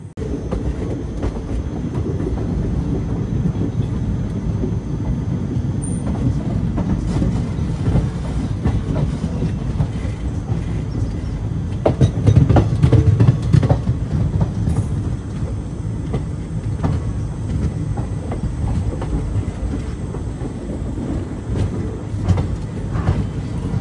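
The Narsapur Dharmavaram Express rolls toward Bhimavaram Junction, a steady loud rumble of wheels and carriages with rhythmic clatter throughout and a brief swell in the middle.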